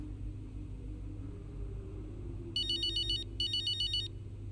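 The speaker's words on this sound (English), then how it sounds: "The phone keeps on ringing." Telephone ringtone in the F1 2025 racing game, two short bursts of electronic trilling over a low steady engine rumble, fairly clear and with no talk.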